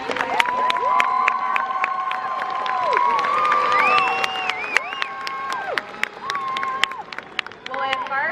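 A high school graduation crowd for the class of 2019 breaks into loud cheering, whooping and shouting with scattered hand claps, a sustained roar of many voices that rises and falls for several seconds.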